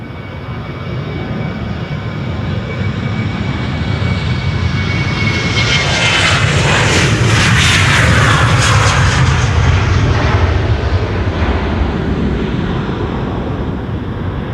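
Boeing 737-800 bound for Edinburgh taking off from Schiphol runway 36L, a loud jet engine roar swelling to a peak as it passes and then slowly fading, with wind buffeting and no voices.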